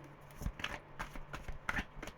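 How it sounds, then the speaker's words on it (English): A deck of tarot cards is shuffled by hand, giving several quick papery riffles and soft slaps at a close distance, with no talking. "I'll shuffle it 3 times."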